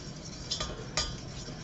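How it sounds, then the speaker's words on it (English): Flour being worked into melting butter in a pan, a soft, steady scraping and stirring sound with two brief louder metallic clinks, quiet and close, no voices. "I'm just going to little by little add tiny bits of flour to that melting butter and keep it moving so it doesn't burn to the bottom of the pan"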